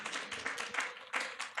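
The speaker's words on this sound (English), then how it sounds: "Clap" Faint audience clapping at a business panel Q&A during a symposium in the Philippines, a soft scattered patter of hands that lasts under two seconds.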